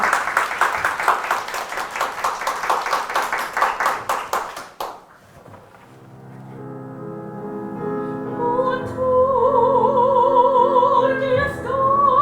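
A lecture-concert audience gives a dense burst of steady applause that fades out after a few seconds, and then a piano and a singer begin to perform.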